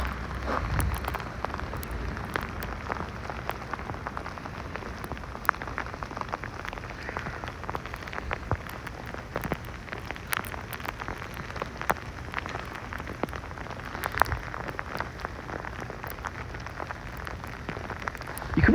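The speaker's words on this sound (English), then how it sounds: "we're having giant sleet coming down" Large sleet pelts a New York City street in a dense, continuous patter of sharp ticking impacts, loud and close, with scattered sharper hits throughout the storm.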